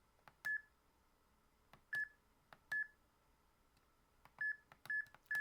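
A KIS-8611Q wireless card terminal keypad beeps as an approval number is keyed in, with a series of short, sharp tones in an uneven rhythm in a quiet room.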